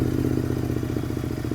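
Motorcycle with over 100,000 km on it idles close by in a steady, loud, even chugging rhythm, with light mechanical clatter over a deep low throb and no talk.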